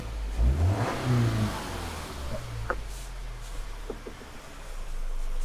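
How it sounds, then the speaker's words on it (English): A car engine at hot idle is revved once during an oscilloscope reference-voltage test, rising sharply then settling back to a steady idle hum, with faint clicks afterward. "I'm going to give this thing some revs,"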